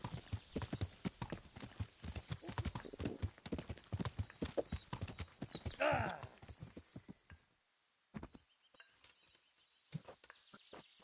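Horse hooves clip-clop steadily on a path in the medieval game Kingdom Come Deliverance, a dense rhythmic patter for several seconds, then a brief pause before sparser hoofbeats resume.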